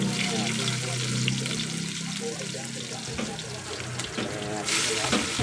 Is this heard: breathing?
no